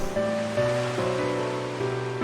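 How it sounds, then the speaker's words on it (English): Gentle ocean waves wash onto a beach in the ISLAND Re; game, a steady soft surf wash running continuously beneath a sustained musical tone. "The gentle sound of the waves playing in my ears."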